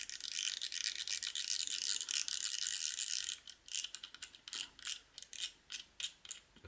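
Removing the large aluminium spool from a Crivit 5000-S freespool baitrunner fishing reel makes a close, steady ratcheting buzz. It then breaks into a series of separate clicking bursts.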